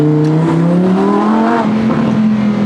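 A loud, close Lamborghini engine revs steadily, its throaty roar rising gradually in pitch for several seconds with no voices.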